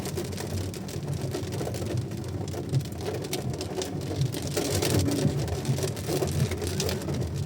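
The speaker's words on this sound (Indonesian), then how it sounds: "Nah, hujannya udah mulai turun." Rain beginning to fall during a drive on the road between Batusangkar and Bukittinggi, a steady dense patter on the vehicle under a low rumble of the moving car, continuous and fairly loud with no talking.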